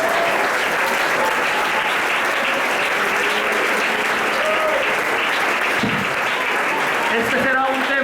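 A church congregation at a Sunday school sermon breaks into loud, sustained applause, a dense wash of clapping close and continuous throughout, with a few faint voices mixed in.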